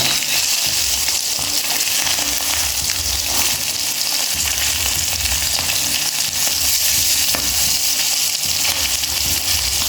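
Fish fries in hot oil in a pot, a loud, continuous crackling sizzle close by, with occasional stirring scrapes and no talking.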